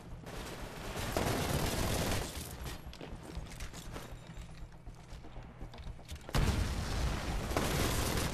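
A grenade detonates in the video game Titanfall: a loud, broad blast erupts late in the clip over steady game noise and scattered gunfire, then rumbles on at high volume.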